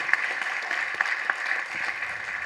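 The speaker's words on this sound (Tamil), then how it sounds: "இந்த நேரத்தில் கருணா சாருக்கு நல்ல மிகப்பெரிய கரகோஷம் கொடுங்க, இந்த அரங்கமே அதிர மாதிரி கொடுங்க." An audience claps at a Tamil film audio and trailer launch, a fairly faint, patchy wash of applause with a few sharper individual claps standing out.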